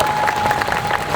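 Dense crowd applause at an outdoor cherry blossom festival after a drum performance, a steady close patter of many hands clapping with a faint tone underneath.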